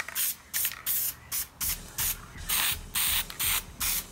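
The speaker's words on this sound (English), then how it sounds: "So you're just gonna spray it on." Spray adhesive hisses from an aerosol can onto a one-dollar thrift store chair during a fur upholstery makeover, in about nine short, evenly spaced bursts, close and fairly loud, with no talking.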